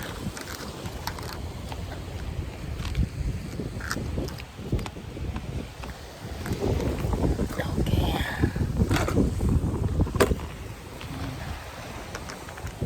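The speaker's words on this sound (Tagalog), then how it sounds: "Lakas ng hangin" Strong wind buffets the microphone in low rumbling gusts at a coastal shark fishing spot, with voices talking now and then over the roar.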